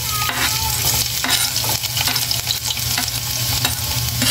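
Garlic dropped into hot oil for a lomi-style udon noodle dish crackles in a loud, dense sizzle, with repeated stirring scrapes and taps close by and no voices.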